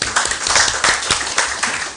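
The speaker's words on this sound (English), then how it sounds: "Can we clap for him?" Audience clapping for a speaker at a hybrid international mental health conference, a steady burst of close applause with individual claps audible, lasting about two seconds with no talk.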